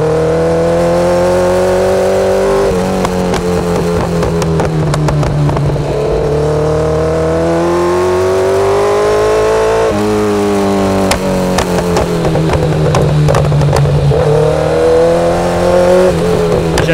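A Kawasaki Z900 four-cylinder motorcycle revs loud and close, its engine pitch rising and falling through repeated gear changes with sharp throttle blips over a steady rumble.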